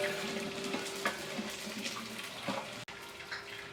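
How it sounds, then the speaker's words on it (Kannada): Mustard seeds, cumin and curry leaves splutter in hot oil in a large restaurant pan, a steady close sizzle scattered with small pops and crackles, with no talking. "ನೋಡಿ, ಅದು ಸಾಸಿವೆ ಸಿಡಿತಾ ಇದೆ, ಎಣ್ಣೆ ಕಾದಿದೆ ಅಂತ ಅರ್ಥ."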